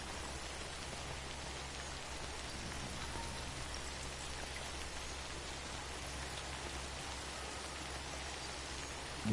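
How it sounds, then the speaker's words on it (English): Rain falls steadily in the video game Death Stranding, a dense, even hiss of drops over a low hum, with no speech. "I don't think this rainfall is gonna let up anytime soon"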